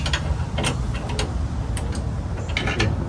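Ratchet wrench snugging down a bolt on a Pontiac GTO suspension, a run of quick close metallic clicks and ratcheting bursts in uneven spurts over a steady background, no talk.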